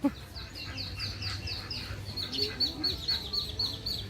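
Ducks quack in a steady run of short nasal calls, moderately close, in Mauritius, with a low background hum and some faint chatter.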